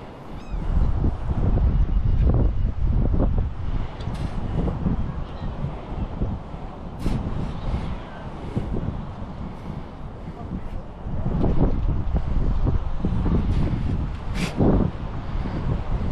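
Strong wind buffets the microphone outdoors during a beach ring-recovery hunt, a loud, continuous low roar that surges and eases over the whole stretch, with faint voices under it.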